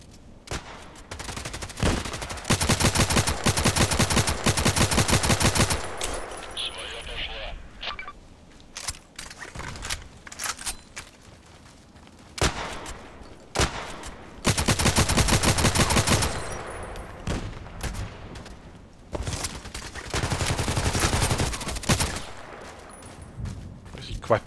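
Gunfire in the online shooter Contract Wars, with bursts of automatic fire and single shots coming in rapid clusters, some long and dense, others scattered, all loud and close.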